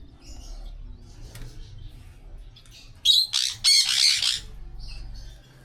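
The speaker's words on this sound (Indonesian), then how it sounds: "Puyuh batu." Button quail in a captive bird-breeding aviary gives a cluster of loud, raspy squawking calls in the middle, over low background rumble and faint chirps.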